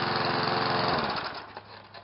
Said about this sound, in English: the best way to do that is mow your lawn first